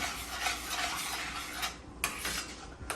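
A mango chipotle cauliflower dish stirred in a pan as it simmers, steady scraping and swishing of a spoon with soft clinks against the cookware, fairly quiet and continuous, no talking.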